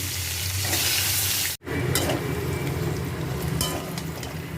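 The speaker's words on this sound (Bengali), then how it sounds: "ওই তেলেই আমি আলুটাকে ভেজে নেব।" Potato pieces fry in hot oil in a village kitchen after cauliflower, giving a steady loud sizzle with stirring scrapes, broken by a brief silent gap near the start.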